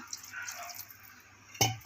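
Water poured into a pan of spicy brinjal kuzhambu with tomato, a faint soft trickle followed by one short, sharp splash near the end, close and quiet.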